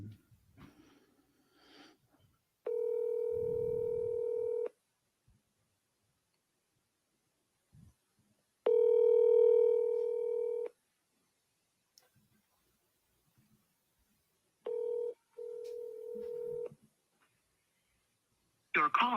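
Telephone ringback tones from an outgoing call to a seller, three steady close tone bursts separated by silences, with faint breathing and movement between rings.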